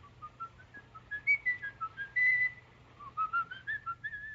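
A man whistles a halting tune in the classic film M, thin melodic phrases rising and falling over a low steady hum, clear and unaccompanied, with short pauses between bursts.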